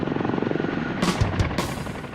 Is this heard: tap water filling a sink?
no